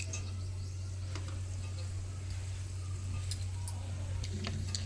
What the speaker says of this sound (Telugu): తాలింపు వేసుకున్నాం కదా